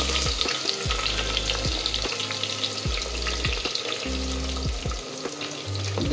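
Onions sizzle in a pan for an Odisha clay-pot chicken dish, loud close frying with repeated scrapes and stirs at an uneven rhythm, no voices.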